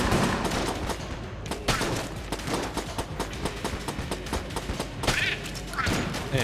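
Dense gunfire in the roguelike shooter Enter the Gungeon, rapid irregular shots and thuds crowding together throughout, loud and close against busy game effects.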